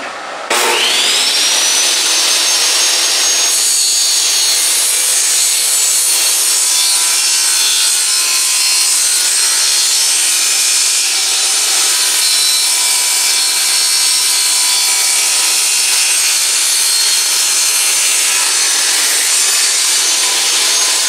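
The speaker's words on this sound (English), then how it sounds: "Now we're cutting the board." A powered saw cuts through a wooden board for a Halloween decoration, starting with a sharp spin-up and then a loud continuous rasping whine that runs unbroken for about twenty seconds, close to the listener.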